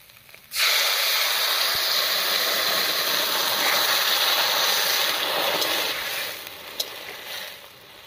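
A sudden loud hiss and sizzle as hot water hits a hot pan of fried taro, bubbling steadily for several seconds before gradually easing.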